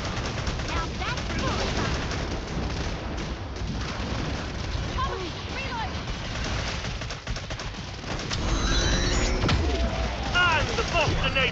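Bursts of gunfire from Killing Floor 2 on the Farmhouse map, with P90 SMG and G36C assault rifle shots crackling through dense game noise, a louder stretch near the end, with voices under the action.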